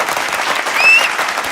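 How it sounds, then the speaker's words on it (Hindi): Audience applause at a Hindi election comedy stage show, a steady dense burst of clapping lasting under two seconds, swelling slightly near the end, with a faint whistle over it. "तालियां"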